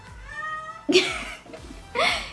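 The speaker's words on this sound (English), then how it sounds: "If you hear a little noise in the background, it's my kitten." A kitten with a broken leg meows twice, high and plaintive, against a quiet background with a faint low hum before the first cry.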